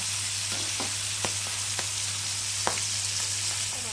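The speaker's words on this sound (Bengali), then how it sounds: "ভাজা হয়ে গেছে আর আমি এখন তুলে নেবো" Steady oily sizzle of fish frying, with a few sharp pops and crackles scattered through it, close and continuous with no talk.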